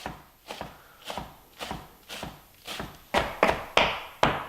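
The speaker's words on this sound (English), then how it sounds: "Okay, so we're just going to chop our cilantro up." A knife chops fresh cilantro on a cutting board in about a dozen evenly spaced, crisp thuds that grow louder toward the end, with no talking.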